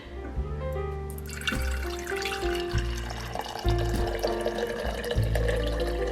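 Liquid fat from cooked chicken in an Instant Pot being poured and strained off, a continuous close trickle and splash with small shifts in flow and no talking.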